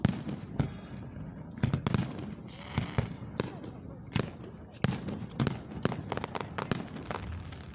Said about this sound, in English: I like how fireworks can turn to anything you see up there when they do that in the sky.